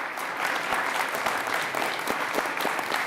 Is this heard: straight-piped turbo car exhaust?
no